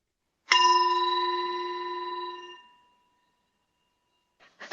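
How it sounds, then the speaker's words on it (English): A single gong stroke rings out clearly, a bright metallic tone with several sustained overtones that decays over about two seconds, then silence before a faint brief rustle at the end. "What a tasteful gong ring, Guru."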